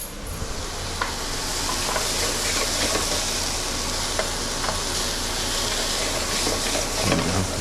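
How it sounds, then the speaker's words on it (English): Butter sizzles steadily in a hot pan just used for searing pork chops, a close, continuous hiss with occasional small pops and a light scrape now and then, no voices over it. "Now let me add a little butter because that pan looks just a little bit"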